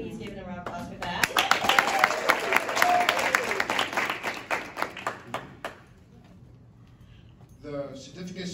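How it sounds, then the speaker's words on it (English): A high school JROTC audience applauds as a certificate of appreciation is presented to a sponsoring bank, loud dense clapping that builds, then thins into scattered claps and fades before a voice speaks. "Please give them a round of applause for that."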